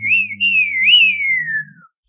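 A person whistles a single clear, gliding melodic phrase that imitates birdsong, close and loud for about two seconds before ending in silence.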